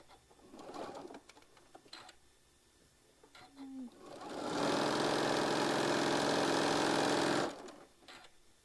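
Sewing machine making a couple of anchoring stitches while piecing a quilt block, a short steady whir of about three seconds after quiet talk and faint clicks.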